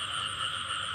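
Frogs croak in a dense, continuous chorus on a rainy night during a frog-catching outing, loud and close with no voices.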